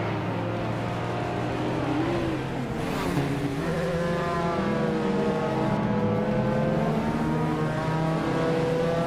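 Race cars in a video game race rev and accelerate continuously, engine tones climbing and shifting as several cars run close together, loud and steady throughout with no talk.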